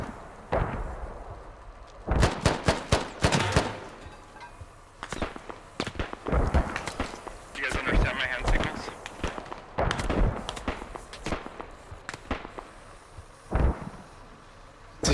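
Gunfire in the video game Squad, with repeated sharp cracks and bursts, some close and loud and others more distant, scattered across a noisy battlefield while players talk over the shooting.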